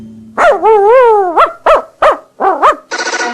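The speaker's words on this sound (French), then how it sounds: "Waf lance un petit aboiement qui en dit long." A small dog gives a short run of yappy barks and whines, close and clear, ending with a quick rattling burst.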